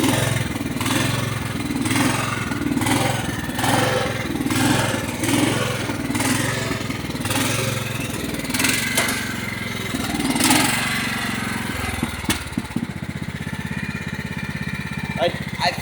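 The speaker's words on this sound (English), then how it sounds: "It mows really well. It's one of the best tractors I've got." A Craftsman lawn tractor fitted with an aftermarket carburetor runs close by, its small engine putting out a steady, loud, rhythmically pulsing drone that shifts in tone toward the end.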